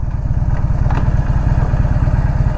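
Harley-Davidson Dyna Low Rider with a 103 engine idles close by with a loud, steady lumpy thump that holds even throughout, with a faint clatter over it.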